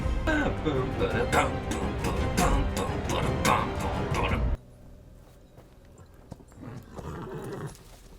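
A horse whinnies amid hoofbeats and dramatic score in a House of the Dragon scene, loud and busy for several seconds before cutting to quieter background sound.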